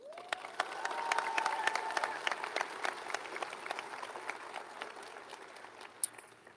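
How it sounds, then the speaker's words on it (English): An audience at a high school graduation ceremony breaks into applause with a brief cheer at the start, the clapping dense and steady before gradually thinning out. "Can we get a round of applause for all the friends and family who are here today"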